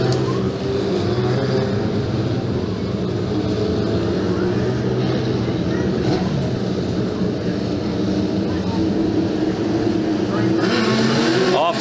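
Legend race cars roaring around a track after a restart, a continuous loud engine drone with rising and falling passes, under the commentator's voice.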